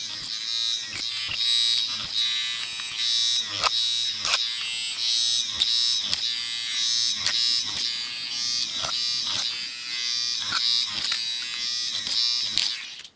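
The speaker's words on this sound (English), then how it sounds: "I'm going to be using an electric drill." An electric drill bores holes in a thin plastic resin fruit shaker, making a steady high buzzing whine with repeated short clicks and bursts as the bit bites and lifts over about thirteen seconds.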